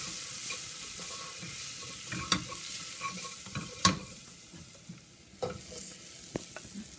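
Shrimp sauce with ground organic ingredients frying in a pan, a steady close sizzle under repeated stirring, with sharp clacks of the utensil against the pan.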